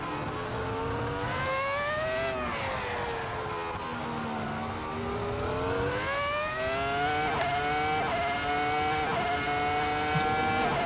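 A race car engine in Assetto Corsa on the Nordschleife drones and revs continuously, pitch rising and falling through gear changes and corners, close and steady throughout with no talk.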